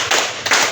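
Two loud group claps from junior high students in a counted clapping game, quick and close together, each a dense burst of many hands slightly out of sync.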